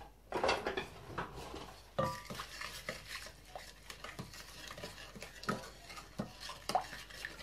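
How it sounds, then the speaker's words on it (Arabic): Rice being mixed with lemon juice using a spoon in a pot, producing repeated scraping and clinking strokes against the pot in an uneven rhythm, close and fairly quiet. "كذلك غادي نقبض معلقه، غادي نخلط هادشي كامل."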